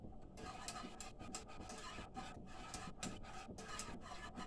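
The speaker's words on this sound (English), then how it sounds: "we're just gonna whisk it, make sure it don't stick" A whisk scrapes and rubs steadily around a pot as a thickening mac and cheese sauce is stirred, a close, continuous raspy swishing with no speech.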